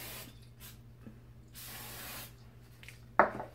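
Short bursts of hairspray from an aerosol can are sprayed onto a mohawk, several soft hissing puffs of varying length close by, ending with a sharper, louder spurt.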